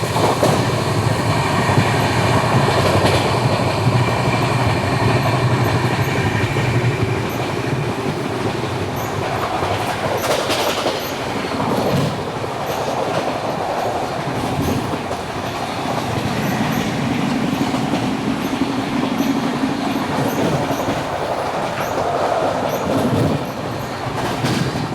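The Amritsar Nanded Sachkhand Express runs at speed beside a parallel train it is overtaking. Wheels rumble loud and continuous, with clattering rail joints and brief metallic squeals throughout.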